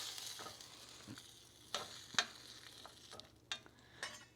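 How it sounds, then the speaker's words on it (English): Vegan fake chicken is stirred around in a hot pan as it cooks, giving a quiet bed of frying with a few sharp scraping strokes of the utensil scattered across a few seconds. "While it's in here cooking, just stir it around a little bit so that it doesn't stick to the pan and burn"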